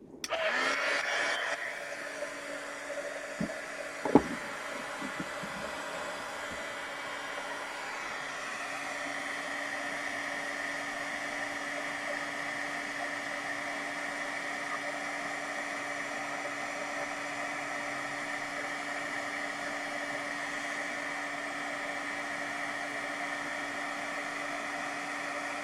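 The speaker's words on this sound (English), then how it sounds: "I'm going to turn the heat gun on." A heat gun runs continuously to emboss glitter at a craft table, a steady, moderately quiet whirring blow with a constant whine, following a few brief clicks near the start.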